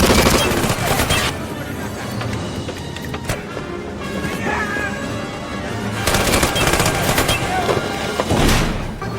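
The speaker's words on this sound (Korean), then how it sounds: "그 순간 총성이 울렸고" Gunfire from a film scene set in a Siberian survival story, loud bursts and sharp cracks over a dense dramatic mix with music and rumble, heaviest near the start and again in the later seconds.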